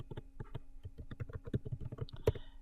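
Quiet, rapid typing on a computer keyboard, a run of close, light key clicks in an uneven rhythm with one sharper tap near the end.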